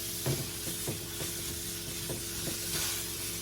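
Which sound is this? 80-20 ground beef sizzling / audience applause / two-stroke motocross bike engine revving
80-20 ground beef sizzling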